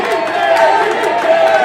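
Wrestling crowd at an independent show chanting in unison for a chop, a loud rhythmic swell of massed voices echoing through the venue for about a second and a half.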